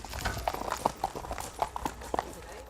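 Hooves of horses ridden by mounted guards clip-clop in a steady walking rhythm on a hard path, moderately near and fairly quiet, with faint talk in the background.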